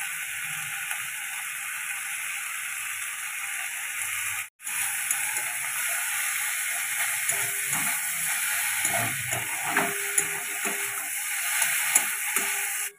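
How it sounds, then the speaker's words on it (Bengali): Green tomatoes frying in a pan with salt and turmeric give a steady, even sizzle that runs throughout, with soft stirring clicks and scrapes near the end. "টমেটোটা একটু ভাজা ভাজা হয়েছে, এই সময় আমি নুন হলুদটা দিয়ে দেবো।"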